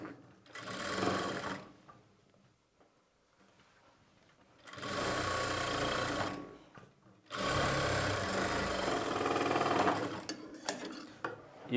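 A sewing machine stitches thread piping along a square neckline: three bursts of fast rattling stitching separated by quiet pauses, close and steady while running.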